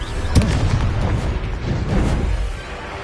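The Confringo spell in a Harry Potter video game on PS4 goes off as an explosion: a sharp burst followed by a rumbling, crackling tail. It sounds loud and close, with no speech.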